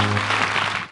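A studio audience bursts into brief applause welcoming Hanif Raja onto a TV talk show, a short burst of full clapping that fades at the end, with a low hum under the start.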